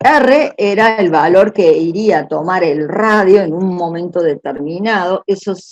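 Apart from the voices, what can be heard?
None of the usual background noises is heard.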